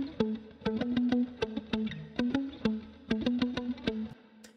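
Electric guitar played through compression, chorus, delay and washy reverb rings out in a rhythmic run of plucked notes, each attack blooming into a shimmering, echoing tail, clean and close with no talk.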